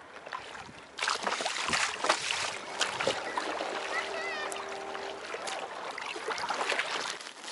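An inflatable Varvar-340 kayak pushes into waves on open water, giving repeated splashes and slaps against the hull over a steady watery wash, with people talking nearby.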